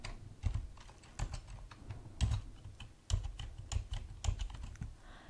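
Rapid clatter of keystrokes on a computer keyboard while R commands are entered in a text editor, uneven bursts of clicks close up and fairly quiet, with no voices.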